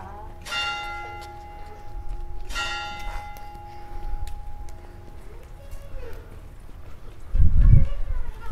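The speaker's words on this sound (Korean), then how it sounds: "10시를 날리는 교회 종이 울리고 있어요." Church bells in the town of Otranto, Italy, striking ten in the morning, two clear ringing strokes heard at moderate distance over outdoor street ambience, followed by faint murmuring and a brief thump near the end.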